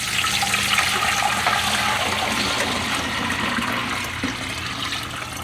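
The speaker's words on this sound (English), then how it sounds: "I'm just going to fill this up with some water" Berkey-filtered water poured steadily into a lemonade container, a continuous close splashing rush that holds level and eases off slightly near the end, with no voices.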